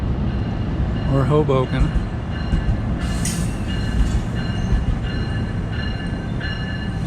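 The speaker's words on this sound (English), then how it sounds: "got to the Dover station just in time to catch a very long train that is headed east to New York City" A very long passenger train headed east at Dover station rumbles past nearby with steady wheel noise, brief metallic squeals and clatter, while a person speaks briefly over it.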